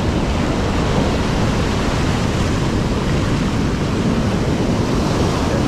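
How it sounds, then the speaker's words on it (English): Steady, loud roar of big surf from a south swell, continuous wash of breaking waves on a beach, buffeted by wind against the microphone. "wave right here."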